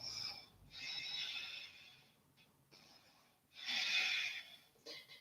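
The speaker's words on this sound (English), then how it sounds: "So take a couple of breaths here." Deep yoga breaths, slow and audible: long inhales and exhales drawn through the nose and mouth, with three breath sounds separated by short pauses, close and fairly soft.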